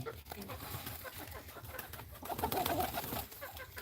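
A flock of pigeons coos and flutters while being fed, soft overlapping calls amid rustling and scattered background noise, with a voice talking nearby.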